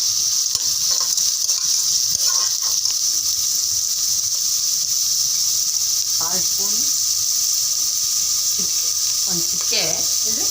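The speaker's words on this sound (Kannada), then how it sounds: "ಸ್ಪೂನು ಎಣ್ಣೆ ಹಾಕೋಣ, ಒಂದು ಸಣ್ಣಕ್ಕೆ ಹಚ್ಕೊಂಡಿರೋ ಸಣ್ಣ ಈರುಳ್ಳಿ ಒಂದು ಹಚ್ಕೊಂಡು ಹಾಕ್ಕೊತಾ ಇದ್ದೀನಿ" A spoonful of oil sizzles steadily in a hot pressure cooker as a small chopped onion fries, a continuous bright hiss running throughout with a few soft stirring clinks and a voice speaking over it.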